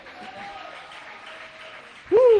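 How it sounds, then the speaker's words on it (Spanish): Church congregation applauding during a Spanish-language sermon: a steady, diffuse wash of clapping with faint tonal sounds underneath, until a loud voice breaks in near the end. "¿Cuántos dan aplausos a ese nombre?"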